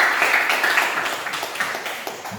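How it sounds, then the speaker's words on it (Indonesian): A small class applauds for a group of students after their presentation, a brief burst of quick, moderately loud clapping that fades toward the end, with no voices over it. "Tepuk tangan untuk kelompok 1."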